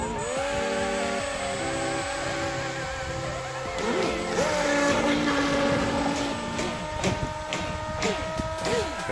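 Radio-controlled model boat motors whine on the water at an RC boat meeting in Guadeloupe, their high buzzing pitch rising and falling as the boats speed up and turn, with faint voices nearby.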